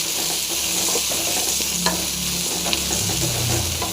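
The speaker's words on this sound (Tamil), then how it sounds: "எல்லாம் போட்டு நல்லா ஃப்ரை பண்ணிக்கலாம்" Bitter gourd fries in a pan with curry leaves and coriander, steady close sizzling carrying a low crackle, punctuated by occasional scraping stirs, no voices present.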